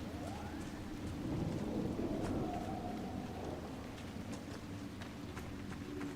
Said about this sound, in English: Why is it always raining?